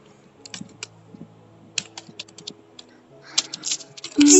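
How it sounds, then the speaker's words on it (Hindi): Laptop keyboard keys are pressed in quick irregular bursts of sharp clicks, close and crisp, pausing briefly before a louder flurry of taps at the end. "कीबोर्ड की बटन ऐसी क्यों दबाई तुमने?"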